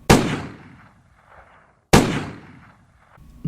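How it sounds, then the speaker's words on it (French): Two sharp gunshots crack about two seconds apart in a night street murder scene, each loud and close with a short decaying tail, then quiet between them. "2 coups de feu retentissent"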